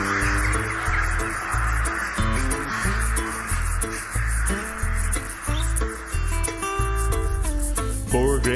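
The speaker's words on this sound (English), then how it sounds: "I love listening to the crows, the sound of them there" Grey crows caw outdoors among nesting birds on a sheep farm, their calls mixed into a dense bed of music with steady beats and melodic tones that largely covers them.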